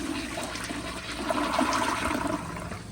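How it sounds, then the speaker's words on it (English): A 1994 Kohler Wellworth Lite elongated toilet flushes with a cloth rag in the bowl, a steady close rush of swirling, draining water lasting about three seconds without pause. "Here's a flush."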